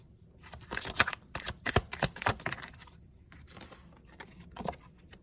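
Tarot cards being shuffled by hand in quick riffling bursts of papery flicks and taps, close and fairly soft, pausing briefly before a final flurry.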